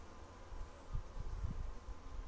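Honeybees at a hive holding a split colony that has just raised a new queen, humming as a low, steady drone with a few louder swells, fairly close and alone without voices.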